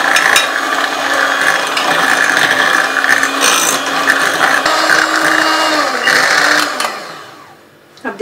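Blueberry cheesecake filling mixed with gelatin in an electric mixer, a steady close whirring and grinding motor hum that runs for several seconds, then winds down and stops.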